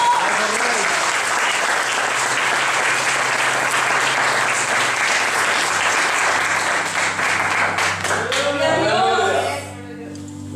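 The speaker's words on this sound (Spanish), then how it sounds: "Denle un fuerte aplauso a nuestro Dios." A church congregation breaks into loud, sustained applause for God, the dense clapping rolling on for several seconds before fading out as a voice and music take over.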